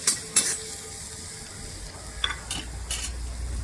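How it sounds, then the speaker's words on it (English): A pan of chili and garlic paste frying with a steady soft sizzle while a utensil stirs it, giving a few scraping strokes and light knocks near the start and toward the end. "You give it a nice stir for a minute."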